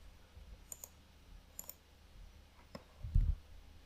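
Several light computer mouse clicks in small pairs and singles, close and quiet, while commands are copied and pasted into a console on Amazon Linux, ending with a soft thump.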